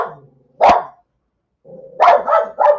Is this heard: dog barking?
yes